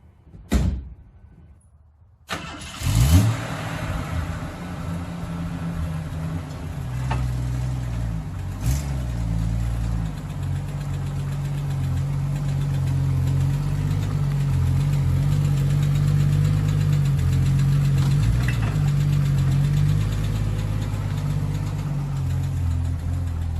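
An AMC Jeep engine starts after a door thump and settles into a steady, loud idle, its low rumble holding evenly for about twenty seconds with no talking.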